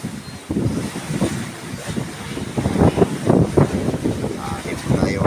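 Strong northeast monsoon wind buffets the microphone at sea from a small fishing boat, a steady heavy roar with gusting bursts, mixed with wave wash, while people talk over it.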